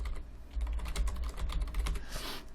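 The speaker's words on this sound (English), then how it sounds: "let me type that correctly" Rapid typing on a computer keyboard, a steady run of close, light key clicks with a low hum underneath and no voices.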